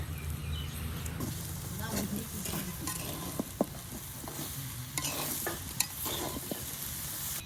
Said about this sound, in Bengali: গুড়টা দিয়া নাড়া দিলেই পারে আমার হালাটা হয়ে যাবে